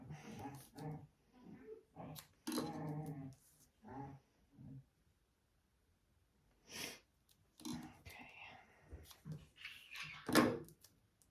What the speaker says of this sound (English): My dogs are playing outside my door.